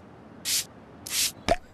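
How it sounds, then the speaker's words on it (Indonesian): Can-opening sounds from the video game Sausage Man: two short, bright fizzing hisses like a soda can being cracked open, followed by a sharp pop, crisp and close against quiet background. "Suara buka kalengnya itu loh kayak buka soda-soda yang ih enak banget rasanya itu ya"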